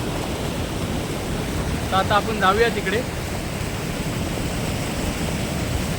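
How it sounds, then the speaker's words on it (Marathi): Water rushing forcefully over a weir, a constant broad roar close by while someone speaks briefly over it. "पाण्याच्या फोर्सनी खालच्या बाजूला खेचले जातात"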